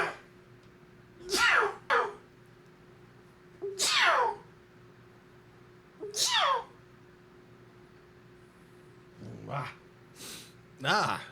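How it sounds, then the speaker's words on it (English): Several short sharp sneezes, one after another with pauses between, close and loud against a quiet room. "I'm going to sneeze."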